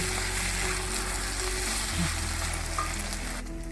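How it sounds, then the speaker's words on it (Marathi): Tomato and onion sauté in a kadai for a creamy methi matar malai gravy, giving a steady, close sizzle with light stirring scrapes throughout, no voices. "आता कढईतील टोमॅटो कांदा छान परतला आहे."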